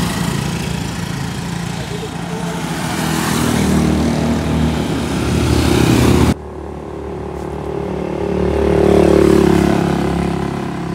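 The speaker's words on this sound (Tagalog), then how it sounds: "ganun pa rin, palyado yung kanyang motor." A motorcycle engine with a misfire after a top overhaul runs and revs steadily for about eleven seconds, loud and close, with a brief cut midway before the revving rises again.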